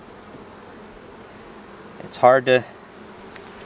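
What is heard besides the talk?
honey bees buzzing around an open hive frame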